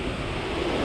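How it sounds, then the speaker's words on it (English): Wind-driven waves on Lake Superior, a steady low wash of surf blended with wind rumble, continuous and fairly faint with no voices. "some waves going on. It's pretty windy."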